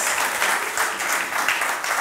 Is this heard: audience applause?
yes